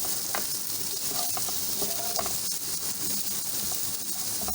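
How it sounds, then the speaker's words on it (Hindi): Onions frying lightly in a pan for restaurant-style dry chicken Manchurian give a steady, dense, hissing sizzle throughout, with faint scattered clicks of stirring, close and moderately quiet. "प्याज भी ऐड कर दें। इसको भी हम हल्का सा फ्राई कर लेंगे"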